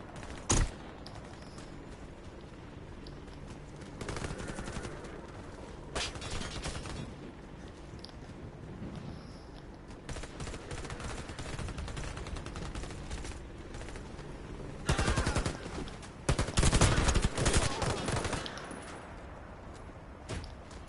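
Gunfire in the tactical shooter Warface: Breakout, with sharp volleys and rapid bursts rising out of a steady background rumble, loudest in a dense cluster near the end.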